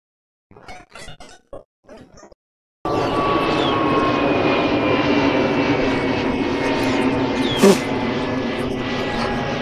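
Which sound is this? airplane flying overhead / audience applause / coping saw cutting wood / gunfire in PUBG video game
airplane flying overhead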